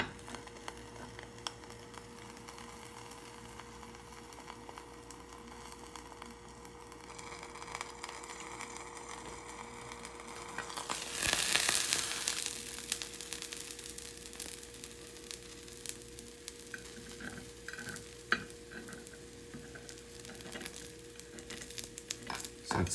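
Thai coconut pancakes with toppings cook in a cast iron pan, giving a low steady sizzle under a faint constant hum, with a louder burst of hissing midway and light tapping scrapes afterward.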